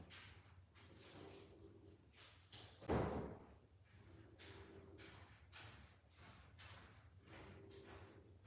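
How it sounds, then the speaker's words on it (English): An indoor door shuts with a single solid thud near the middle, standing out against a steady low room hum, with no talking. "let me close this door"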